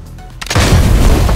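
Cannon fire in a video game where players latch onto a cannonball: a short quiet lead-in, then a loud booming blast that stays heavy and rumbling to the end, no talking.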